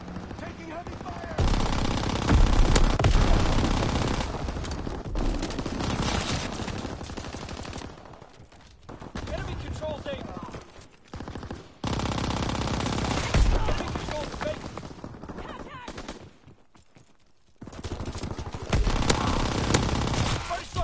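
Sustained heavy gunfire and explosions in a Call of Duty WW2 battle, loud and near-continuous with brief lulls, with game voices calling out under the din.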